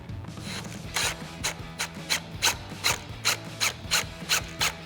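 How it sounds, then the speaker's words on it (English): A T15 Torx bit unscrews the headlight locator adjusters on a Jeep Wrangler JK, giving a close, regular ratcheting click about twice a second over a faint mechanical hum. "we need to unscrew our locator adjusters. Now for that, we'll need a T15 Torx bit."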